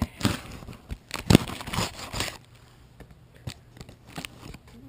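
A knife slicing open a plastic Newegg mail bag: a few close, sharp ripping and crinkling bursts in the first half, then softer scattered rustles of plastic.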